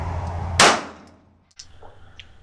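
A single sharp report from a .45 caliber 1911 pistol cracks close by, then decays quickly, followed by faint clinks and rustling at the range.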